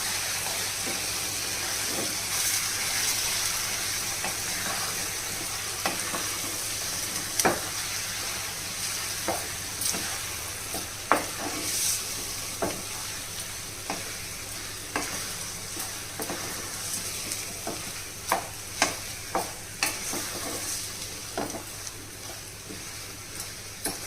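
Curry leaf pickle frying over low flame in a pan, a steady soft sizzle broken by repeated scraping stirs of a spoon through the paste, close and moderately loud with no talking.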